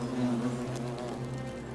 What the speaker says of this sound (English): Why are there flies buzzing around?